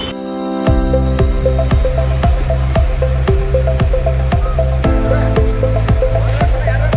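A machine sprayer spraying fungicide onto the crowns of areca palms to fight fruit rot, with a loud continuous hiss of spray over a steady, rapid pulsing engine beat, close and unbroken.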